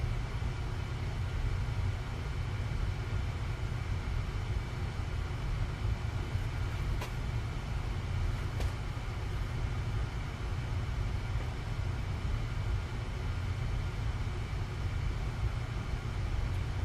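A NuTone Verandah Deluxe ceiling fan coasts down, giving a steady broad whooshing hum with low rumble throughout and two faint ticks midway, without any talking.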